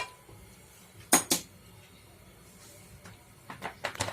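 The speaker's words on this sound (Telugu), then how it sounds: "స్టవ్ మీద ప్యాన్ పెట్టి స్టవ్ ఆన్ చేసుకోవాలి" A metal pan set down on a kitchen stove, two quick clanks close up, then softer clinks and scraping in a quiet room.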